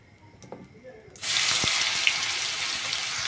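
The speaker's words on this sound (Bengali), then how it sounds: "এবার দিয়ে দেবো আমি আদা রসুন বাটা।" Ginger garlic paste drops into hot oil already holding cumin and bay leaves, and a loud, steady hiss of frying starts abruptly after a quiet moment, close and continuous to the end.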